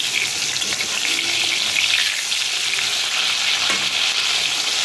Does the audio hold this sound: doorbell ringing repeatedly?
no